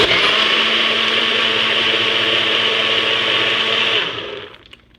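A Nutribullet Pro or Cleanblend blender motor whirs loudly and steadily close up for about four seconds, then winds down and cuts off, with no voices.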